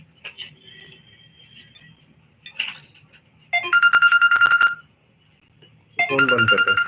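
A phone ringtone sounds in a TV repair workshop, two loud bursts of bright repeating tones a couple of seconds apart, after softer clicks and faint background noise.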